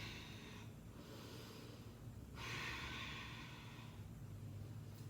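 Slow, deep breaths during a yoga bind pose in a core-focused flow: two long, airy exhales or inhales roughly two seconds each, close and fairly quiet, over a steady low background hum with no talking.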